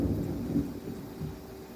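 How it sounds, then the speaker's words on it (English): Rolling thunder rumbles low and steady during a storm, a deep continuous growl with a couple of swelling surges, heard alone without talk. "The thunder is rolling, guys."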